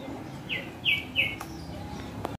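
A caged bird gives three short, bright chirps in quick succession, fairly close, over a low background hum.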